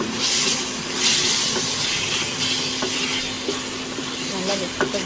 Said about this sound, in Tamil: தக்காளி சேர்த்ததுக்கப்புறமா கொஞ்சமாக மஞ்சத்தூள் உப்பு சேர்த்து நல்லா மிக்ஸ் பண்ணி விட்டுக்கலாம்